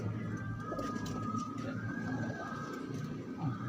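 Pigeons cooing in a loft: soft, repeated low coos that carry on steadily under a thin background hum, with faint scattered chirps.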